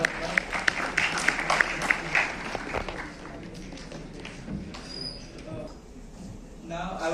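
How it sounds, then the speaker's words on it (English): Audience applause at a question-and-answer session at IIT Madras: distinct claps ring out at the start, then thin into softer scattered clapping, with voices talking over it. "Please round of applause."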